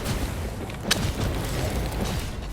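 Explosions destroying a temple in the fantasy game Flamebreak, a dense, continuous rumbling roar of blasts with a sharp burst near the start of the first second, loud and sustained throughout.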